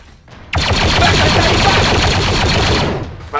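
Sustained automatic blaster fire from big guns in a Mandalorian-themed VR game, a loud rapid rattling stream of shots lasting a few seconds, close up, with brief quiet before and after.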